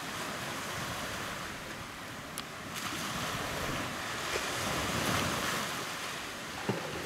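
Surf breaking at Playa Negra, a black sand beach on Vieques, heard as a faint continuous wash with wind buffeting the microphone and no talking.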